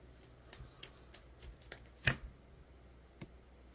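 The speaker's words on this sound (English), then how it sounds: "You just heard me shuffle the deck." Tarot cards shuffled by hand, a string of soft riffling bursts at an uneven pace with one louder, sharper flurry near the middle, close and alone against a quiet room.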